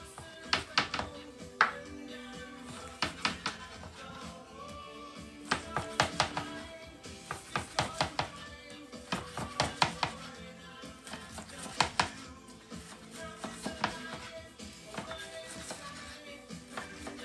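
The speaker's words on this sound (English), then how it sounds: "So take the bacon out, frozen, and cut it down just like this." A knife chops through frozen bacon on a board in a home kitchen, giving sharp, close thunks in quick bursts of several cuts with short pauses between them.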